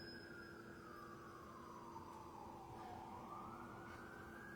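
A distant emergency vehicle siren wails in a slow, sweeping tone that dips and rises again, faint and steady over a quiet indoor background with no talk.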